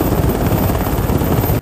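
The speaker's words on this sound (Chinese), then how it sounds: "直升机缓缓降落德兴运动场" A rescue helicopter setting down on a sports ground in Hualien after a mountain hoist rescue, its rotor beating in a loud, steady, dense roar close by until it cuts off abruptly at the end.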